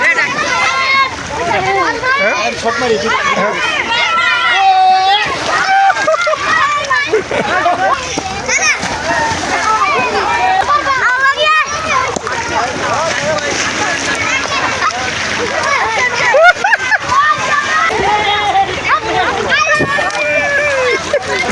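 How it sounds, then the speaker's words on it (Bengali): A boy swimming at a river ghat: continual splashing and sloshing water, with someone talking loudly over it and children's voices in the background. "এই যে সাঁতার কাটতেছে, এই যে সাঁতার কাটছে, দেখেন সবাই সাঁতার কাটতেছে।"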